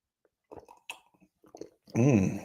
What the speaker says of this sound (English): Did you hear that slurping?